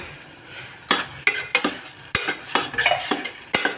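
Masala sautéing in oil in a pan for Madurai-style pepper chicken gravy: a bright, continuous sizzle with sharp spoon scrapes and clinks against the pan at irregular intervals, close up and without voices.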